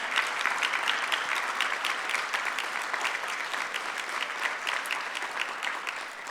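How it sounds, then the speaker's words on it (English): An audience at a gala dinner in a Marriott ballroom gives a steady, sustained round of applause for the event's corporate sponsors, dense clapping holding at an even level throughout without a break. "please give them a round of applause"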